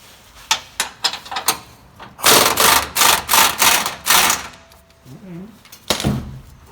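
An impact wrench with a 3-inch extension and impact socket hammers out the upper rear shock bolt on a 2004-2015 Nissan Titan in a series of loud, close rhythmic bursts, with scattered knocks and brief talk around them.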